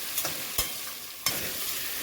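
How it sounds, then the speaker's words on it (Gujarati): Grated potato sautés in oil with carom seeds and asafoetida in a pan, a soft continuous sizzle broken by a few sharp scrapes and taps of the spoon stirring it, close and without talk. "બટાકાની છીણને સાંતળી લઈએ"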